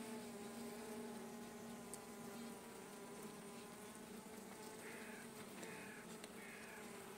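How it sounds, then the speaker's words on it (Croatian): Honeybees hum steadily around an opened hive as it is checked on the way out of winter. The buzzing is a continuous close drone, and a few sharper passes stand out near the end. No one is talking. "Ovo je puno mirnija pčela."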